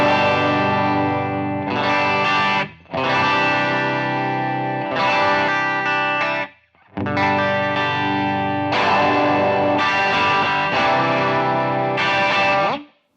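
Electric guitar played through a JHS Double Barrel V3 overdrive pedal: thick, distorted sustained chords ring out in long held phrases, each broken by a brief pause, loud and saturated with no talking.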